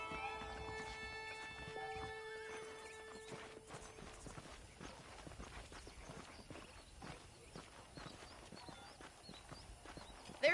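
Horse hooves clip-clop steadily in the video game Red Dead Redemption. The beat is continuous and mid-distance across the whole stretch, with a faint ambient bed and a brief tonal sound near the start.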